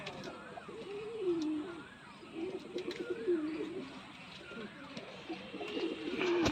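Black pigeons kept in pairs coo repeatedly in low, rolling phrases close by, with bird chirps and people talking in the background.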